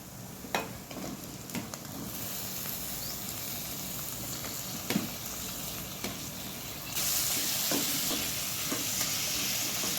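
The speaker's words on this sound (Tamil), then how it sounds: "நல்லா தக்காளி வதங்கட்டும்" Tomatoes sauté with ginger garlic paste in a pan. A continuous sizzle carries occasional sharp utensil taps, and the hiss swells louder partway through. No one speaks.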